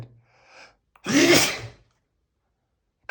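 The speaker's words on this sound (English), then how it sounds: "I gotta sneeze." A single close sneeze with a short intake of breath before it, then near silence.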